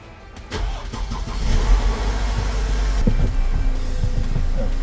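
Mercedes-Benz C200 engine starting, a brief starter crank followed by the engine catching and settling into a steady idle with a slight rev, close and loud, no talking.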